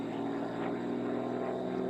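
A model aerobatic airplane's propeller spins at high RPM with supersonic tips during a US Nationals competition flight. It makes a loud, continuous buzzing drone with a steady tone and slight wavering pitch, and no one speaks.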